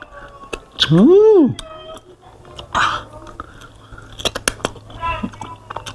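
Close, wet chewing of triple-spicy Samyang noodles with seafood including oysters, with crunchy and squishy bites and smacking, plus a brief rising and falling vocal sound near the start.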